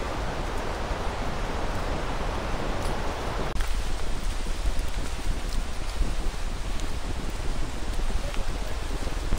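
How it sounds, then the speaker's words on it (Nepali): Steady rain falls on a trail near a Sherpa village in the Nepali hills, a constant close hiss of drops with no break across the stretch. "पानी मजाले परिरहेको छ।"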